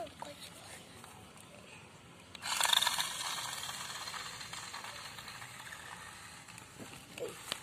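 A toy 4x4 car is switched on, its small motor and gears whirring and ratcheting after a brief lead-in, fairly quiet and steady, with someone speaking briefly near the start.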